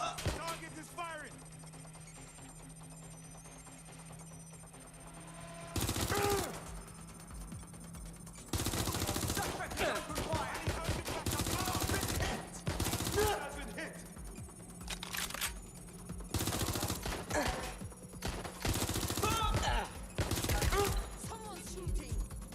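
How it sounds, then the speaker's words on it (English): Gunfire in the video game Watch Dogs Legion, with loud bursts of rapid shots in several clusters over a low game hum, and voices talking between and under the shooting. "Someone's shooting."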